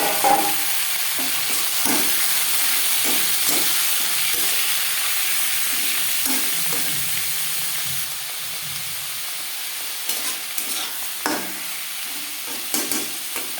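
Chopped onion, tomato and garlic fry in oil over panch phoron and bay leaf for Bengali muri ghonto, giving a steady close sizzle with repeated stirring scrapes, which thin out toward the end.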